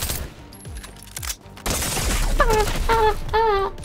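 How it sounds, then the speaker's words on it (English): Gunshots in a Fortnite desert zone-wars match, a few sharp cracks and a short burst of rapid fire mixed with game effects and chirping tones, fairly close and loud. "You shot through the wall."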